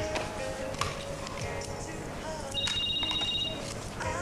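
A telephone rings in a dubbed television drama scene, its bell-like tone running intermittently through the clip over a busy background of music and voices.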